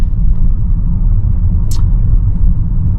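A Volvo XC90 D5 rolls along a road, heard from inside the cabin as a steady low engine and tyre rumble with one brief high squeak partway through.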